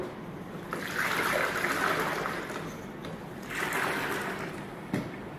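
A mop is washed in a mop bucket rinser, giving two soft swishing, sloshing water bursts close by, with a small clunk near the end.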